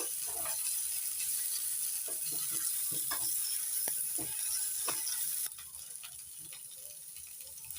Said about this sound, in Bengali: এবার দিয়ে দিচ্ছি 3টে চৌকো করে কেটে নেওয়া সেদ্ধ আলু। নাড়াচাড়া করে একটু ভেজে নেব।